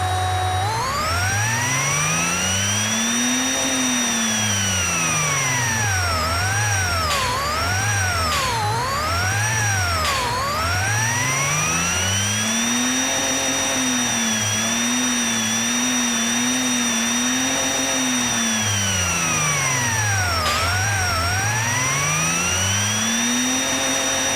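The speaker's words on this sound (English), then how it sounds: "The supercharger will be whining constantly, and the turbocharger boost at the same time" Twin-charged car engine in the game Automation, supercharger and turbocharger together, revving up and down repeatedly in long sweeping pulls with a constant high whine riding over the loud steady engine tone.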